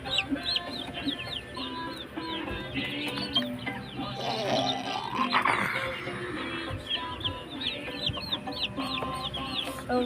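Young chicks in a cage cluck and peep continuously at close range, with a busy overlapping chatter of short calls and a brief louder squawk midway.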